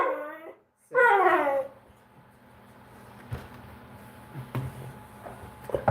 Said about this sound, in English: he's being a talker now. He's doing his Chewbacca impression